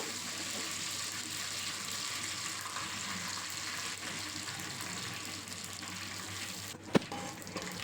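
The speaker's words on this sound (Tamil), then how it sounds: "கருவேப்பிலை சேர்த்துட்டு கருவேப்பிலையும் நல்லா பொரிஞ்சு வரணும்" Curry leaves and fenugreek seeds frying in hot oil for a fish curry produce a soft, even crackling sizzle, with a single sharp clink near the end.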